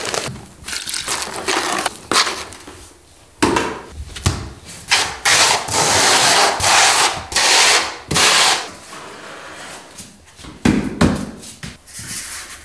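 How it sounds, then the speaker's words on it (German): Tile adhesive being spread and scraped with a trowel onto a primed screed-panel floor for a bathtub installation on a tub support, loud close rasping strokes in uneven bursts separated by short pauses. "Ist die Grundierung getrocknet, trägst du Fliesenkleber auf."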